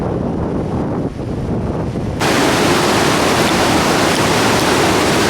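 Loud, steady roar of rushing water at Turgen waterfall in Kazakhstan, a strong current close by, growing louder and fuller partway through and continuing as a dense, unbroken wash.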